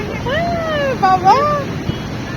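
Waves breaking on the beach at Puri form a steady, loud rush of surf, while a person speaks briefly in a high, drawn-out voice over it.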